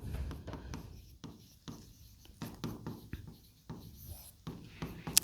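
A pen writing a rule on a board or page during a Class 10 physics lesson on light and refraction, heard as a quick series of short scratchy strokes and taps, close and fairly quiet, with no talking.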